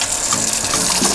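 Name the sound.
water running from a tap while washing hands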